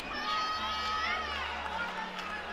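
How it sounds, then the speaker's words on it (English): Crowd at a BYU versus Utah gymnastics meet chanting and cheering in a continuous, fairly distant wash of voices with a rhythmic chant pattern. "BYU chants erupt after Hortman excites the crowd"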